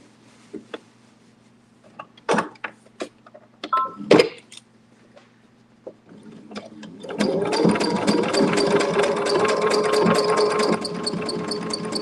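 A sewing machine stitches fabric applique. It starts with several scattered clicks and handling knocks, then runs as a steady, close mechanical whir for the last several seconds.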